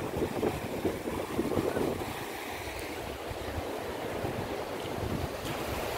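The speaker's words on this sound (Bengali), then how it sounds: "সমুদ্রের গর্জন" Sea waves roar and break steadily on Enani beach at Cox's Bazar, a loud, continuous wash of surf with wind noise that swells slightly near the start and end, with no voices.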